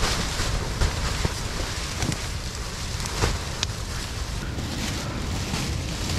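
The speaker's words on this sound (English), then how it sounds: "It is so windy." Strong wind sweeps through a Canadian-style bushcraft overnight camp, a loud, dense, continuous roar and rustle close to the microphone, with occasional sharper gusts and flapping.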